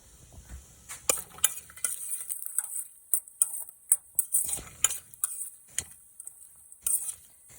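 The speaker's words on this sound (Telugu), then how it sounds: "జీడిపప్పు వేసుకొని ఫ్రై చేసుకోవాలి." Cashew nuts and whole spices fry in ghee with a faint crackle, punctuated by frequent sharp clinks and scrapes of a metal spoon stirring against the pan.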